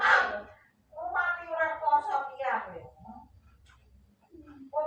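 A cat gives a few drawn-out, wavering meows close by, with a short quiet gap before a final brief call.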